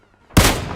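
A single loud, sharp shot bursts in close after near-silence while shooting at an enemy vehicle's tires in the PUBG Mobile battle-royale game, followed by a ringing decay.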